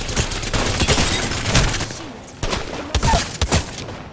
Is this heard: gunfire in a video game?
yes